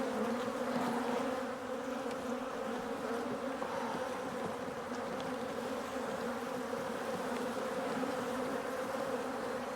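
Honey bees buzz steadily and densely at close range while a hive is being split, a continuous droning hum with no talk over it.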